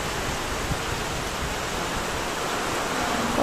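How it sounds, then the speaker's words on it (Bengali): Heavy rain pours down steadily outdoors as a dense, continuous wash with no break and no voices. "আমাদের এখানে প্রচুর বৃষ্টি হচ্ছে"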